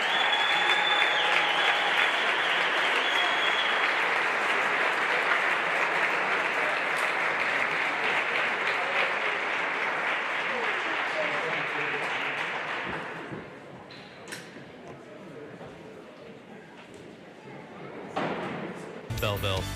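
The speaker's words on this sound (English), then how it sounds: "one more round of applause for our seniors" A gym crowd at a high school wrestling senior night claps loudly for the seniors, sustained applause for about thirteen seconds before dropping to scattered claps and murmurs, with a brief thump at the end.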